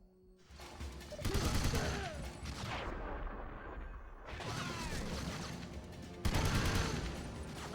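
Gunfire crackles in bursts during a shootout level of the video game 007: Everything or Nothing. Rapid volleys come in three separate stretches over a mechanical, noisy game soundscape.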